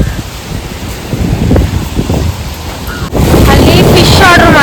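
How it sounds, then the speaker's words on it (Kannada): Strong wind gusts across Udupi beach, buffeting the microphone with heavy roaring rumble and surf-like wash, growing louder toward the end, with voices partly buried underneath. "ಗಾಳಿ ಹೆಂಗ್ ಬೀಸಾಯ್ತು"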